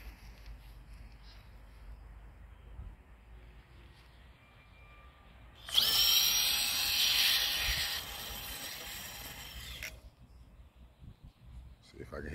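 An Axial SCX10 RC crawler fitted with a 2250KV brushless outrunner motor and Mamba Micro X2 controller races past in a yard, its whine rising loudly for about four seconds before cutting off, with outdoor background before and after.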